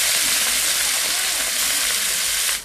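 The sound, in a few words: rohu fish pieces sizzling while frying in oil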